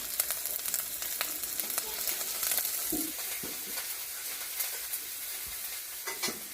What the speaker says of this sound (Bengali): এখানে মাছ ভাজা করছি